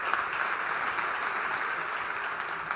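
Audience applause at an IT Alliance panel summit, a steady wash of clapping held at an even level throughout, welcoming a panel speaker.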